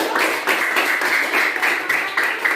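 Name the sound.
applause for group 1 in a classroom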